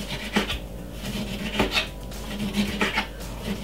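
A knife chops oranges repeatedly against a cutting board in irregular taps and scrapes, close by, with no talking.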